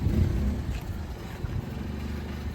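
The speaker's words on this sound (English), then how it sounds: "Now we're just waiting for David to pull up with the Mitsubishi Toppo" A Mitsubishi Toppo BJ kei car pulls up, its low engine rumble and road noise steady and fairly close, with some wind buffeting and no talking.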